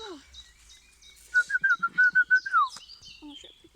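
A rescued baby bird calls in a quick run of about eight sharp, rising chirps bunched together, close and clear, with a person's voice murmuring around them.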